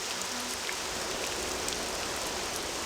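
Steady rain falling in the game Morrowind, an even hiss of drops on the ground, constant and moderately loud, with nothing else heard.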